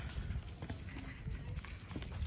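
Horse hooves clip-clop over muddy ground in a quiet, fairly distant series of soft, irregular thuds, with occasional faint voices nearby.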